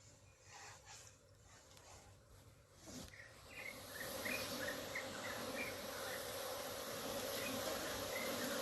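Bees buzz around beehives at a home in Bali, a faint low drone that swells and grows denser partway through and then holds as a steady, close hum.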